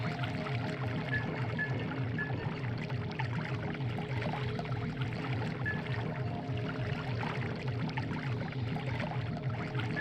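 Water in the Noita video game flows and sloshes in a steady, continuous rush with soft bubbling and dripping textures, moderately loud and without talk.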